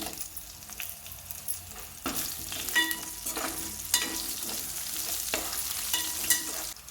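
Cumin seeds and dried red chilies crackle and sizzle in a hot pan, a moderate continuous fry with bursts of louder spitting and stirring scrapes.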